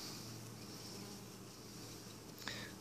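A faint, steady drone of many honey bees buzzing continuously, with a brief sharp tap near the end.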